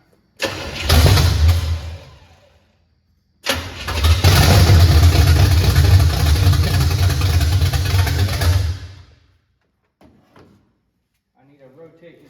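A long-dormant car engine cranks and catches twice, running loud and rough for several seconds each time before cutting off, with brief talk close by afterward.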